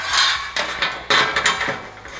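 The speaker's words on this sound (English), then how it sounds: "this one I made just to smash with a hammer, so that you can do it just on the table" A hammer strikes a dimple die on sheet metal, about five sharp, clanging metallic hits in quick irregular succession, loud and close.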